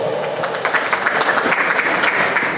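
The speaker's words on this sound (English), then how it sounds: "Give a nice round of applause for Evan Bolio" A racing crowd at a speedway charity race applauds a driver being introduced, steady dense clapping and cheering at moderate distance, filling the whole moment without speech.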